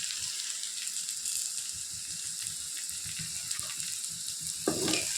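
Ivy gourd (kovakkai) frying in a pan gives a steady, fairly quiet hiss and sizzle of hot oil throughout, with a brief scraping stir near the end.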